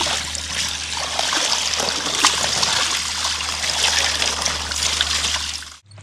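Running water splashes and trickles steadily while something is washed, a close, loud, continuous flow with small splatters, stopping abruptly at the end.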